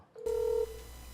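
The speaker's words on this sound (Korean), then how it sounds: "전화 인터뷰를 연결해 보겠습니다" A single short electronic telephone tone sounds as a phone interview is connected, clear and close against a quiet low hum.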